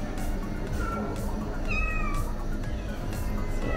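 Several shelter cats at an adoption facility meow amid a busy, noisy room, with a brief higher meow standing out near the middle and voices murmuring in the background.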